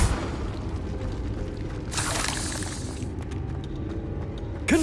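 A Confringo explosive spell blast in Hogwarts Legacy, a broad boom rushing up midway and lingering about a second amid rumbling battle ambience, with scattered sharp clicks afterward and no voices.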